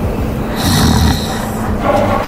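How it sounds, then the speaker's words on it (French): A sleeping security guard snores inside a trampoline park, a low rumbling drawn-out breath with a raspy, snorting edge, fairly close, followed by a shorter second snore. "Même d'ici, je peux l'entendre ronfler."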